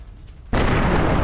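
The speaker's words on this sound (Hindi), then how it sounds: "आईडीएफ ने 10 टन बारूद से टनल को उड़ा दिया, ध्वस्त कर दिया।" An IDF demolition of a tunnel with 10 tons of explosives: a sudden loud blast after a brief quiet moment, followed by a sustained roaring rumble that stays loud to the end.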